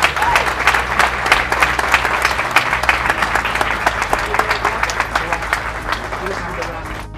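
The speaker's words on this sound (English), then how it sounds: "Let's give each other a great applause for that." An audience at a health clinic dedication breaks into steady, close applause, dense clapping sustained for several seconds and tapering slightly at the end.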